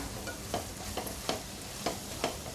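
A spatula stirs and sautés an onion-tomato masala in a pan after the oil has separated, for a dry bombil dish. Soft, steady sizzling runs under about five evenly spaced scraping strokes, with no talk.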